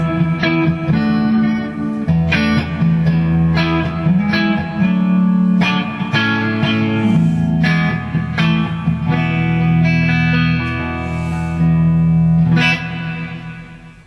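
Electric guitar played through a 2003 Marshall amp with its built-in digital reverb, sustained distorted chords and notes ringing out with a smooth reverb tail, loud and continuous without any talking.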